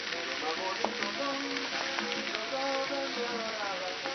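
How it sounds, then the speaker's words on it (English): Steaks sizzle in a large frying pan, a continuous crackling hiss with scattered pops and spits, moderately loud and steady throughout. "I decided to start my steaks on the other side of the pan"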